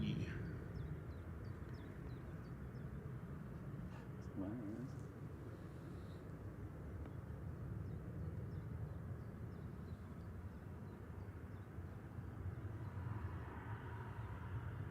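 TUI airliner departing Manchester Airport, a faint distant low jet roar lasting throughout, mixed with outdoor ambience and people talking nearby.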